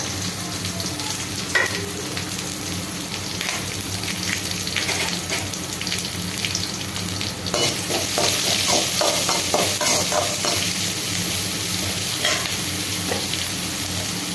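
Curry leaves, onion and green chillies sautéing in a pan, a loud continuous sizzle with rhythmic spatula scrapes that quicken midway, close and alone.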